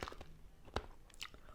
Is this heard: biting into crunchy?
yes